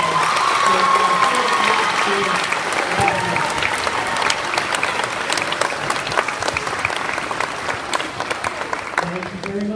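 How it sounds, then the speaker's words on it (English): A school awards-day audience applauds its athletes with sustained, dense clapping mixed with some crowd cheering, loud at the start and easing a little toward the end, with voices faintly audible in the mix. "Let's give them a big round of applause."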